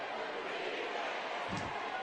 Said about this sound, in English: listen to this Alcorn State crowd in the Rock chanting for their defense now